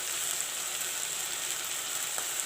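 Ginger garlic paste and turmeric sizzle in a hot pan of oil, a steady, close, bright hiss of frying that continues evenly, with no talking.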